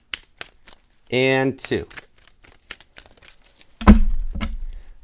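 A deck of tarot cards shuffled during a reading, heard as sparse, crisp card snaps and riffles spread through the clip, with a person speaking briefly in the middle and a louder rustle near the end.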